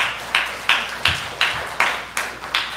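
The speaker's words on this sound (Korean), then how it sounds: "박수 한번 보내시다" A church congregation claps at a Sunday service, eight sharp, evenly spaced claps in a steady rhythm with no talking.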